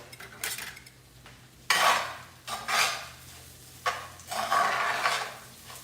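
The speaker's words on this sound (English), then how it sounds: "let me stir this well" Spoon scraping and stirring dry pasta and rice in oil in a pot, several rhythmic bursts of metallic scraping with a faint sizzle beneath, close and fairly loud.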